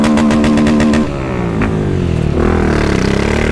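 A 2023 Honda CB300F Twister motorcycle with a Dore exhaust idles in neutral with a loud, close, throbbing beat, then is revved hard once so the engine climbs and falls before settling back to a rough idle.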